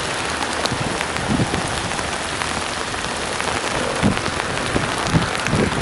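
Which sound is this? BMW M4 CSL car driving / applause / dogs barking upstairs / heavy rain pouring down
heavy rain pouring down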